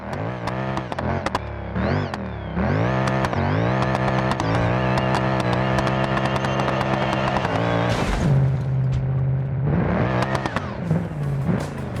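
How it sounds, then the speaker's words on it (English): A car engine roars and revs continuously in a BeamNG.drive crash test of a racing car mod, with brief impacts near the end, then the engine drone resumes; no voices. "Now let's move on to the crash test and physics results."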